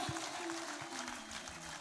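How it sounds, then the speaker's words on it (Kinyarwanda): A church congregation claps in praise of God, a dense, steady patter of applause that sounds fairly faint and slightly distant throughout. "Nimukomere Imana yacu amashyi."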